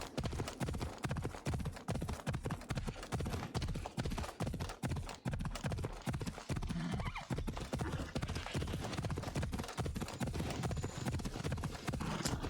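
A horse's hooves clip-clop steadily and rapidly along a road in the video game Assassin's Creed Odyssey, loud and continuous throughout, with no talk over it.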